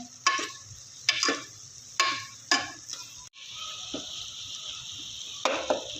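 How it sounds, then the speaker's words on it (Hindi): Onions frying and turning light brown in a pan for chicken biryani, with a steady sizzle under several sharp, evenly spaced spoon scrapes and knocks against the pan. "प्याज लाइट सा ब्राउन हो रहा है।"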